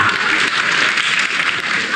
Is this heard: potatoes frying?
no